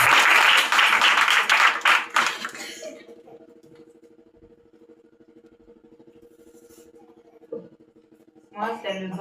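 A church congregation applauds loudly for about two and a half seconds, then the clapping stops and a low sustained hum takes over, with a brief cough and a voice returning near the end.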